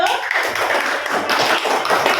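A class at an Indonesian university teacher-training session claps for the first presenting group, a busy patter of close hand claps and taps, fairly loud and continuous.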